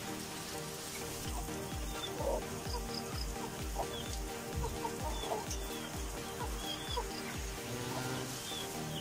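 Caged chickens, including white leghorns and fighting roosters, cluck softly in a backyard coop, a steady low pecking and murmuring rhythm with faint chirps over a constant background hum.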